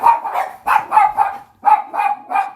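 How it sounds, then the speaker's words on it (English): Dogs barking loudly and close by in a quick rhythmic run of about eight sharp barks, grouped in twos and threes with brief gaps, no talking over them. "Sorry about the dogs"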